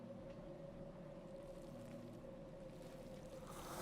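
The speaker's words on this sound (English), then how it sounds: "the sound of the Xenomorph is so obnoxious" The Xenomorph creature in the game Dead by Daylight gives off a continuous low, rumbling hiss with a steady droning tone that holds evenly throughout and rises slightly at the end.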